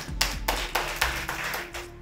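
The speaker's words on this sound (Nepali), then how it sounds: "एकपटक अडियन्सलाई ताली बजाइदिनको लागि म अनुरोध गर्छु।" Audience applause at a quiz show competition, a short burst of scattered hand claps with distinct individual slaps, fairly soft and heard alone.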